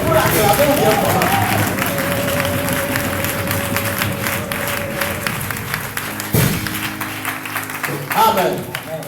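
A church congregation applauds and cheers steadily for several seconds, a broad wash of clapping with crowd noise, while a voice talks over it.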